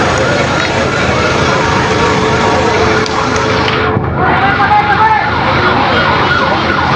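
A Bay fire department fire truck siren wails loudly and close by at a house fire in San Antonio, Los Baños, Laguna, its tone sweeping up and down continuously under traffic noise and nearby voices.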